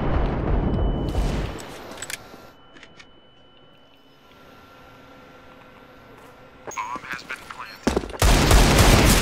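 Gunfire in the Free Fire mobile shooter, with loud bursts of shots at the start and again near the end, separated by a quieter stretch of faint in-game ambience and small effect sounds.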